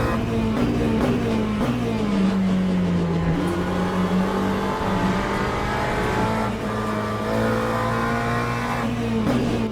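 Race cars on track in Le Mans Ultimate, including a BMW, roar continuously and loudly close by, the engine pitch rising and falling through gear changes as other cars pass.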